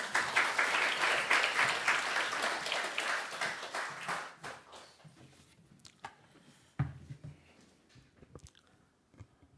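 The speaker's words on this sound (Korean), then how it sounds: "나오실 때 우리 큰 박수 한번 보내주시겠습니다" A church congregation at Sunday worship claps loudly for a pastor coming forward; the applause holds for about four seconds, then dies away into a few scattered claps and soft room noises.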